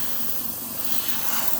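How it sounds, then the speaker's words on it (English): Airbrush blowing a steady stream of compressed air to push wet paint around a model locomotive tender, a close, constant soft hiss lasting the whole moment with no talk. "use the air from the airbrush to kind of blow"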